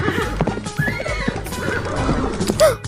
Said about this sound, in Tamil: அம்மா அங்க பாருங்கம்மா ஒரு குதிரை நிக்குது